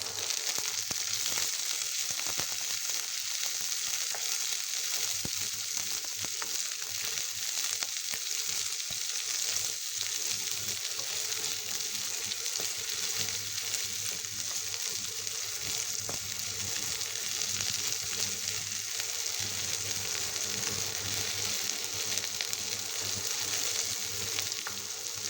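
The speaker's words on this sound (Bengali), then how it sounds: "দিয়ে দিচ্ছি কাঁচা লঙ্কা, দিয়ে দিচ্ছি শুকনো লঙ্কা। এগুলো এখন খুব ভালো করে ব্রাউন কালার করে ভেজে নিব।" Green chilies and dry red chilies frying in hot oil until brown, a continuous bright sizzle and crackle holding steady throughout, close and fairly loud with faint occasional stirring.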